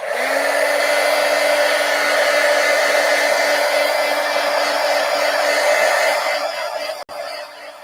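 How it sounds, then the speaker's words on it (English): A heat gun blows steadily and loudly for about seven seconds while drying paper for a reverse collage, then cuts off abruptly near the end. "this is a good place to get the heat gun. Let's dry this."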